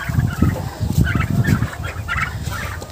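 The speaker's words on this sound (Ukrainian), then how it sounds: "Індичатка." Young turkey poults in a farmyard pen call in a busy run of short, overlapping chirps and peeps, close and steady throughout, with no speech.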